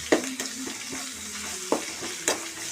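Turmeric and ginger-garlic paste frying in a pan for egg gravy gives a soft, steady sizzle with a few sharp spoon scrapes and stirs, heard close and alone.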